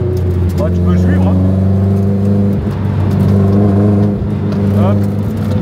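A Toyota MR2 drives and revs, its engine note rising and falling in loud, close surges, with people talking over it.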